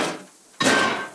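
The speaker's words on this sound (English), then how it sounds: "We'll get the scrap electronics from the microwave." A microwave smashed apart for scrap electronics in the video game DYSMANTLE, giving two quick metallic crashing impacts, the second sharper and louder, close and with no talk.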